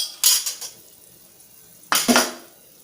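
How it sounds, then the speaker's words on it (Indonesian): Green bean and tofu curry being stirred in a pan: two short bursts of a metal utensil scraping and clanking against the pan, separated by a quiet pause. "Kita aduk lagi"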